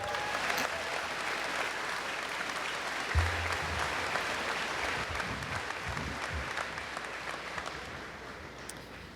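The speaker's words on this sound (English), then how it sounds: "Round of applause." Graduation audience applauding steadily for about nine seconds, a dense wash of clapping with a few louder bursts near the middle, heard alone without talk.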